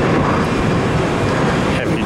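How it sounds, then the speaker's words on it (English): A Boeing 767 heavy jet roars steadily and loudly at an airport, a dense continuous engine rumble filling the whole stretch, with voices talking under it. "Heavy jet."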